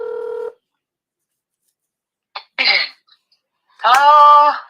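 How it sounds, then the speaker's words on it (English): A single telephone dialing tone at the start, a short steady beep, followed by silence, then a throat clear and a cough, close and loud. "Dialing."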